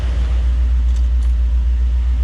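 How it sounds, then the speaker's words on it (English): A Mercedes car engine idles with the key removed due to a fault, a close, loud, steady low rumble and rhythmic pulsing throughout, with no voices. "Key is out. Engine is still running."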